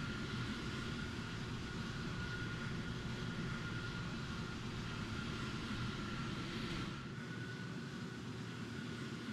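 Heavy jet aircraft engine in War Thunder roaring steadily as a large, heavy plane builds speed, a loud dense continuous rumble with a faint whine held throughout and no talk.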